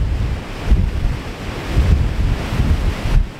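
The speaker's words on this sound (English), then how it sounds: "Very windy." Strong wind gusts across a balcony on the Isle of Arran, buffeting the microphone with a loud, continuous low roar that rises and falls in gusts.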